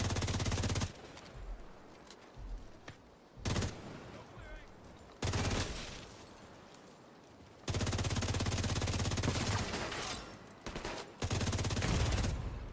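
Automatic turrets in The Division 2 fire sustained bursts of rapid gunfire, starting and stopping in several loud stretches, with a voice speaking briefly in between.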